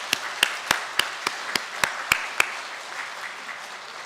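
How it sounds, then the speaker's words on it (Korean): A church congregation claps in welcome during a Sunday worship service, with eight sharp, evenly spaced hand claps ringing out near and loud over a quiet room before the clapping stops. "우리 따뜻한 박수로 환영하겠습니다."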